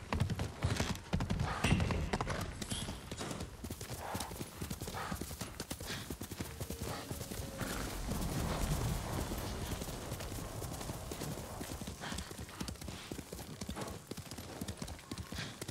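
A horse gallops in the samurai video game Ghost of Tsushima, its hooves pounding in a fast, continuous clip-clop rhythm that stays close and loud throughout.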